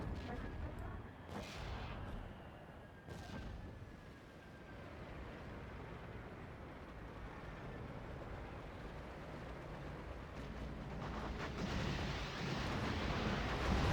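Artillery and gunfire in the real-time strategy game Act of Aggression, with a few sharp blasts early on over a continuous low battle rumble that swells again toward the end.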